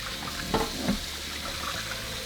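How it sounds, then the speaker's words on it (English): Tap water runs steadily into a sink with a soft hiss, broken by a couple of brief splashes as chicken pieces are rinsed under it. "now we're just going to rinse them with water"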